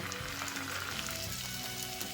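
Tempering for seven-vegetable sambar sizzling in hot ghee, a steady crackling fry close by with faint stirring, no voices.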